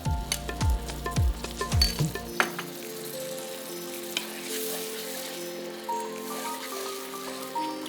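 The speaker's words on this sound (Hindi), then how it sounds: "अब ये मसाले में डाला दही, लगभग आधा कप है जी।" Half a cup of yogurt hits hot spice masala in a pan for barnyard millet (jhangora) biryani: several metallic clanks first, then a loud, steady crackling sizzle.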